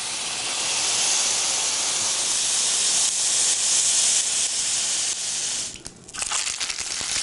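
Gravy poured onto hot browned onions in a pan sets off a loud, steady steaming hiss that fills the clip, easing briefly near the end before resuming.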